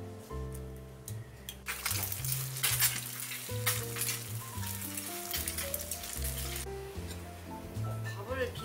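Eggs fry in a pan with a steady sizzle, joined by occasional utensil clinks, all under background music with a voice speaking at times.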